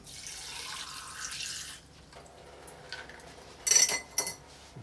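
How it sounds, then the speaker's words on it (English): Water pours steadily into a mixing glass with ice for a couple of seconds, followed by a few sharp clinks of ice and glass up close. "Gonna add some water."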